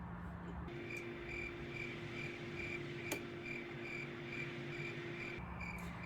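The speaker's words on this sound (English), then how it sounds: "you're probably hearing crickets." Steady cricket chirping fills the air in a continuous pulsing trill, with a constant low hum beneath and no voices.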